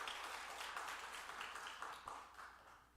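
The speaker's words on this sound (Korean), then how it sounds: "인사할 때 박수로 격려해 주시기 바랍니다." A church congregation applauds in encouragement during a Sunday morning Christmas Eve service, a soft, moderately dense patter of clapping that gradually thins and fades toward the end.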